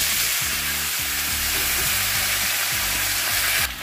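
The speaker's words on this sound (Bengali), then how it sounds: "মাছ ভাজার তেলেই ফোড়ন দিয়ে দিচ্ছি শুকনো লঙ্কা, জিরে আর তেজপাতা। দিয়ে দিলাম আলু আর লাউ" Potatoes and bottle gourd hitting hot leftover fish-frying oil tempered with dried red chillies, cumin and bay leaf, giving a loud, continuous close sizzle that drops away abruptly at the end, with a low tonal hum underneath.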